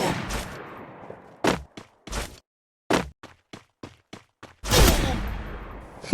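Gunfire in the mobile battle game Free Fire, sounding as separate sharp cracks and short bursts with silent gaps between them, ending in a longer loud burst.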